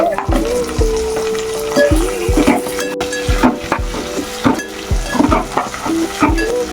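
Boiled mutton going into hot oil with ginger paste for a cucumber mutton curry, crackling and sizzling up close while a spoon scrapes and clanks against the pan in a repeated stirring rhythm.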